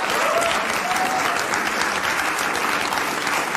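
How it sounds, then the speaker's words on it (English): Studio audience clapping steadily and fairly loudly at a talk show taping, a dense continuous wash of applause with no break. "while the audience is clapping"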